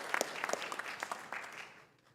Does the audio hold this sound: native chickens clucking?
no